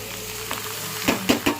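Vegetables fry in a pan for a curry, a steady close sizzle broken by a few quick scraping stirs near the end, with no voices.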